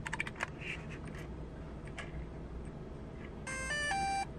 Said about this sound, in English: and you get the DJI noise, and the gimbal does its calibration